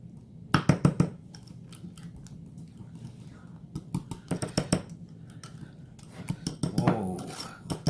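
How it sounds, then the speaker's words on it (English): A whisk working through an herb mixture of parsley and cilantro in a bowl, close up: bursts of quick clinking, scraping strokes in short runs, separated by quieter pauses. "Now give a nice whisk, let them get mixed together."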